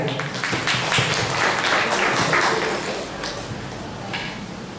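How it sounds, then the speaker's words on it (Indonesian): A seminar audience at a career prep session on BUMN recruitment tests breaks into dense, steady applause, a sustained wash of many hands clapping that fades slightly toward the end. "kita kasih tepuk tangan yang meriah"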